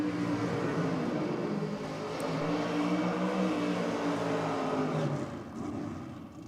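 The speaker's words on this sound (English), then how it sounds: "All right, a couple of solid burnouts there from Naomi Dyson and Josh Boscovich" Nostalgia drag racing cars doing burnouts, including an XP Coupe and a Ute, roar steadily and loudly for several seconds before the noise eases near the end.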